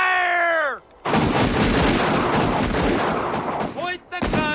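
Gunfire at a shooting target in a film: a dense, loud burst of rapid shots rings out, broken by a short pause and a tonal whine, then resumes.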